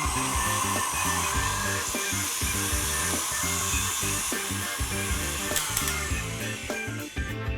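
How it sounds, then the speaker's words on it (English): A stand mixer mixing gluten-free, dairy-free espresso chocolate chip cookie cake batter with coconut oil, a loud steady motor whir with a rhythmic thumping beat from the beater, continuous throughout. "Now that everything's in the mixer, I'm just gonna go ahead and give this another good mix"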